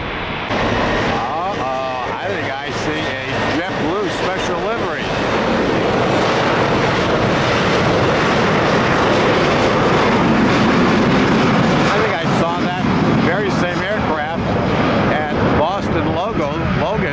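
Airliner engines roar steadily at Tampa airport during rush hour, a loud continuous jet and propeller drone with passing aircraft, and a voice talks over it at times.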